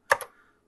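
Keys on a vintage Apple keyboard clack twice in quick succession, close and crisp, then fall silent.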